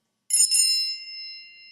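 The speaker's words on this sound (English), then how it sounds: "ringtone, that's the sound you get when your phone rings, when somebody's calling you" An iPhone plays its classic chime ringtone: a bright, bell-like ringing struck twice in quick succession, then a sustained tone that fades slowly, heard alone at moderate volume.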